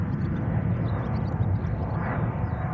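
A KLM Boeing 777-200 airliner at Schiphol Airport gives off a steady, loud roar of jet engines with broad rumbling noise, continuous and fairly near, with no talking.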